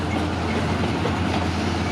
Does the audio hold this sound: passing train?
yes